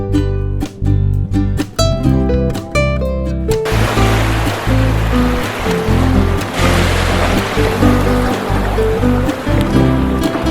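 Kayak moving through mangrove water, with a steady watery rush and splashing over a low drone, preceded by a few seconds of rhythmic clicking music, loud and continuous with no speech.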